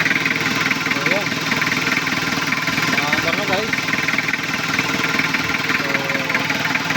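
A 1991 Toyota Hilux with a 3L diesel engine idles steadily nearby with a clattering rumble after starting on one crank, while someone talks over it.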